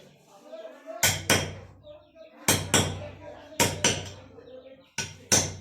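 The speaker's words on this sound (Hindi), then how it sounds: "सबसे पहले तो आप रिंच से ही ठोकिएगा इस तरीके से।" Metal wrench hammering on a motorcycle shock absorber's oil seal, loud sharp strikes landing in close pairs, four pairs in steady succession, with someone speaking faintly between them.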